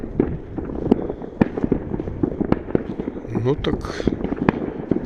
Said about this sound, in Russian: в этом году над Иссыком салют